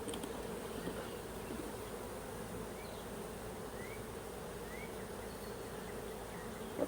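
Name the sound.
swarm of honey bees buzzing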